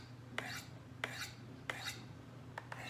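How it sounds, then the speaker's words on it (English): A Shirogorov folding knife with an Elmax steel blade is drawn across a sharpening stone in slow, even rasping strokes, about four spaced passes with a shorter pair at the end, quiet and close over a low hum. "A lot of times what I'll do is I'll sharpen only on this side until I raise a burr"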